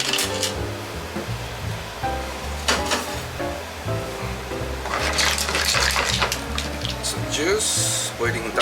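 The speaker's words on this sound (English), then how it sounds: "Juice boiling down." Clam juice boils down in a pan on the stove, giving a steady bubbling sizzle with intermittent louder spattering bursts, close and continuous with no talking.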